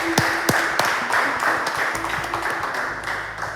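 A church congregation applauding during a Pentecost festival service, a dense patter of many hands clapping steadily with a few sharper claps standing out, sustained and moderately loud.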